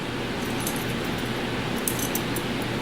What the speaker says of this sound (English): I found a whole bunch of car keys